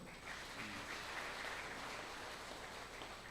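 A church congregation at a Sunday service applauds, a soft, continuous patter of clapping heard from a distance beneath a steady background hiss, low in level throughout.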